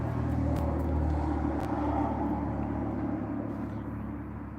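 A Lamborghini sports car rolls past outdoors, a low engine rumble that swells and then slowly fades away, with a couple of faint thumps early on.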